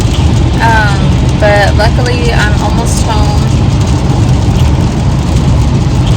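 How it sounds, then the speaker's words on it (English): Heavy rain pounds a car being driven, a dense, loud roar of drops and road noise throughout, while a person speaks briefly over it. "this is crazy how bad it's raining"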